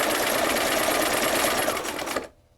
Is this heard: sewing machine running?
yes